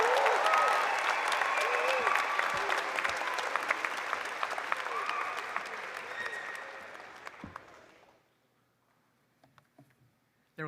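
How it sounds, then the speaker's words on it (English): Graduates applaud themselves at a college convocation ceremony, a broad crowd of clapping hands mixed with faint voices and cheers that gradually thins and fades away into near silence by the end. "Once again, applaud yourself, and congratulations, class of 2026."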